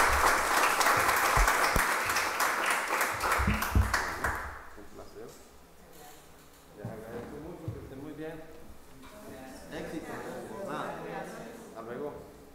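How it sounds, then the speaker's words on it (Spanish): A burst of applause at the end of a conference talk at a seminar fills the first few seconds, then fades as background murmur and indistinct voices continue. "Pido un fuerte aplauso"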